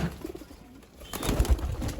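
Pigeons at a large pigeon farm in Mymensingh, with soft low cooing that swells near the end, heard close amid a busy, noisy background.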